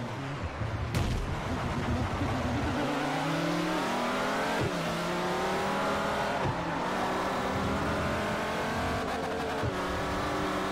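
A diesel LMP1 race car engine in Forza Motorsport 4 drones loudly and continuously, shifting pitch as it accelerates through gears, with occasional tire squeal.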